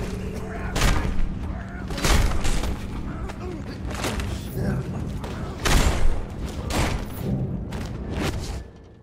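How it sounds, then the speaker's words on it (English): Repeated explosions go off in the Mad Max video game, several heavy booms spaced a second or two apart over a constant rumbling backdrop, with voices talking at times. "Why was all that stuff exploding?"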